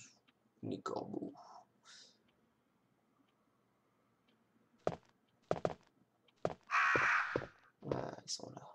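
Cawing crows in the Resident Evil video game, Jill's campaign, sound in short separate bursts, with a loud raspy call near the end and someone talking early in the clip.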